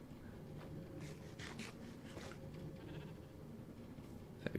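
Sheep bleating in the Minecraft-style game Shamblecraft, several short nasal bleats over a steady low game background, with a sharper sound at the very end.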